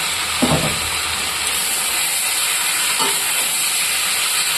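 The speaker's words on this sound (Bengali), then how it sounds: "দিয়ে দিলাম পুঁই শাক দিয়ে মশলাপাতি লঙ্কা মঙ্কা দিয়ে একটু ভালো করে নেড়ে চেড়ে নিলাম" Malabar spinach (pui shak) with spices and chili is stirred in a pan, a constant hissing sizzle with a couple of brief scraping stirs, one early and one later; no talking.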